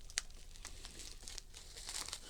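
Wrapping paper crinkles and tears softly in short, irregular rustles as an early Christmas present is unwrapped nearby. The sound stays fairly faint throughout, with no speech.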